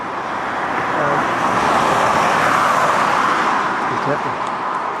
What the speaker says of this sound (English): not going to be easy with all the traffic noise